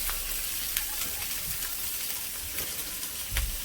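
Dumba (fat-tailed sheep) karahi cooks in a pan without ghee outdoors in a village, giving a loud, steady frying sizzle and hiss, with occasional stirring scrapes and a dull knock near the end.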